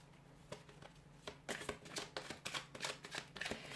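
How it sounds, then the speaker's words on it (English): Tarot cards are shuffled by hand in quick bursts of riffling and flicking that grow busier after a quieter start, close up with no voice. "I'll give the cards a shuffle"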